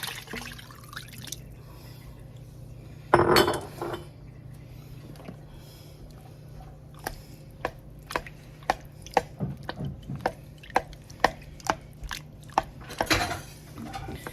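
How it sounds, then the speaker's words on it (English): Rapid knife taps on a cutting board, irregular and close, chopping whole canned tomatoes, with soft wet squishes and a clatter of utensils. "we're going to chop them"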